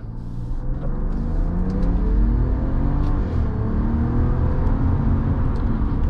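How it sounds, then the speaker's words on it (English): A 2025 Ram 1500 Tungsten with a twin turbo inline six accelerates on a highway, its smooth engine rumble and rising whir building steadily inside the cabin over road noise, with no talking. "Let's open up this twin turbo inline six just a little bit."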